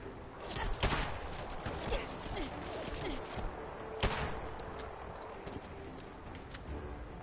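Gunfire in Fallout 4, with sharp shots and short bursts scattered through a busy game battle. Two louder cracks stand out near the start and the middle over steady background noise.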